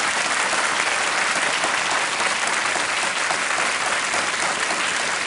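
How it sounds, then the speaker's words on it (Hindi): Studio audience applause on the Hindi quiz show Kaun Banega Crorepati after a contestant wins 80,000 rupees: loud, dense, unbroken clapping from a large crowd throughout. "तालियां बजती रहनी चाहिए देवियों और सज्जनों"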